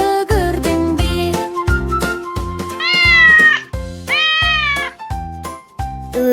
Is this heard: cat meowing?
yes